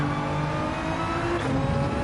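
Racing video game car engine revving hard through a shift into third gear, a steady close, loud drone with a brief pitch change near the end and no talking.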